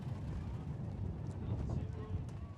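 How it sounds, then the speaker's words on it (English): Wind gusts buffet the microphone at an outdoor women's club ultimate frisbee nationals game, making a steady, rumbling roar that swells and eases throughout. "So now we're getting a big wind gust."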